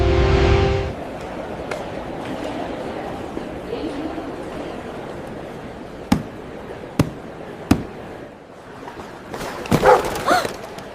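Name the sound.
puppy barking inside a suitcase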